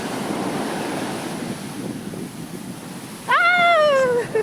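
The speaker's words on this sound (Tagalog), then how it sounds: "Medyo malalaki ang alon ngayon. Yun naman ang gusto-gusto ng mga surfer." Large ocean waves surf onto a beach, a steady broadband wash near and fairly loud, with a brief high tonal cry rising then falling near the end over the surf.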